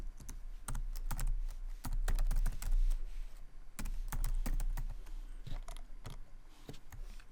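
Typing on a computer keyboard, rapid clusters of close, crisp key clicks with brief pauses between bursts and no talking.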